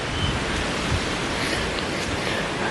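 Water flowing outdoors, hidden among overgrown plants, gives a steady, even rushing hiss, moderately loud and unbroken throughout, with no voices.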